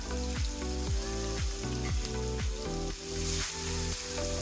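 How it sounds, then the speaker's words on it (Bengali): Chopped onions fry loudly in leftover fish-frying oil, a dense, continuous sizzle, with rhythmic scraping strokes as they are stirred. "পেঁয়াজগুলোকে আমি হালকা বাদামি করে ভেজে নেব"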